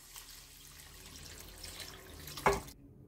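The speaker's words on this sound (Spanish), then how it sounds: "Y voy añadiendo agua." Water runs from a tap into a pan of mushroom cream sauce, a soft steady trickle with one brief louder splash near the end before it stops abruptly.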